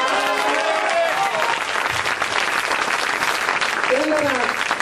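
Sustained crowd applause at an Italian political rally for the Lista Libertà, dense and steady throughout, with voices talking and calling over the clapping.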